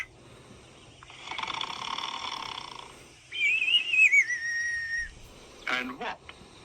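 A breathy, airy tone gives way to a loud, wavering whistle that slides up and down over a couple of seconds, ending in a short, sharp whistled note.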